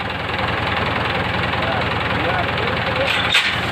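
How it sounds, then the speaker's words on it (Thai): A Ford TS90 tractor's diesel engine idling close by with a steady rhythmic chugging and rattle, continuous throughout. "รถไถฟอร์ด TS 90"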